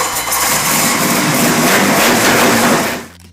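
A Miller Offenhauser inline four-cylinder racing engine runs loud and close, a dense steady roar with rough harmonic texture that holds for about three seconds before cutting off sharply.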